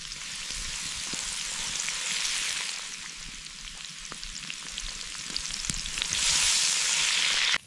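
A zebra steak sizzles over an open fire in the African savanna, bone side down, giving a continuous crackling, hissing fry that swells louder near the end.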